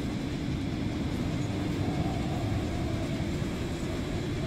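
A giant toy train speeds past in a Poppy Playtime trailer with a steady, loud rumbling roar. The dense mechanical noise holds evenly throughout with no voices.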